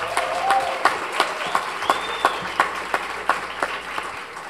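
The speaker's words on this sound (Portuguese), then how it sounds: "Uma salva de palmas para Raquel." Steady applause from an audience, with sharp claps standing out at a regular pulse over a dense wash of hand-clapping.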